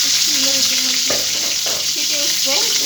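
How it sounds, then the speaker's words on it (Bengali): Fish, seasoned with salt and a little turmeric, frying in hot oil for a mustard-flower dish, giving a steady, loud hiss throughout with brief tonal sounds over it and no talk. "আমি মাছটা ভালো করে ভেজে দিব লবণ আর একটু হলুদ দিই ভয় পাওয়ার কিছু নাই গরম তেলে মাছ দিলে এমন হবেই"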